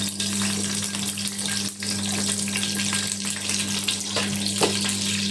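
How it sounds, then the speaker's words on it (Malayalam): Mustard seeds spluttering in hot oil, a steady close sizzle with scattered small pops over a constant low hum, and no voices. "എണ്ണ ചൂടാക്കി കടുക് ഇടാം."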